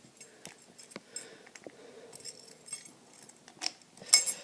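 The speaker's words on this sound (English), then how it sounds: "Comes with a full set of keys too." Keys from a 1986 Honda Rebel motorcycle jangle close by, several light metallic clinks and rattles scattered across a few seconds, quiet and without talk.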